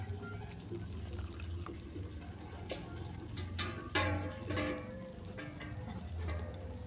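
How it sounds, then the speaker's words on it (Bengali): Water poured in a small amount into a bowl of pitha batter made with jackfruit, a soft trickling and splashing over a steady low background hum, with a slightly louder pour in the middle. "দিলাম অল্প পরিমাণে জল"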